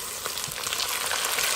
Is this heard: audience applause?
no